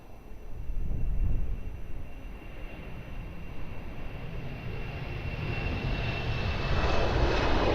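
An airliner takes off from runway 02 at Lisbon Airport, its jet engines swelling into a loud, broad roar that builds steadily toward the end, heard from a distance with no one talking.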